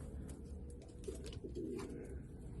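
Pigeons in a loft give faint, low cooing calls over a quiet steady background, with a few soft rustles.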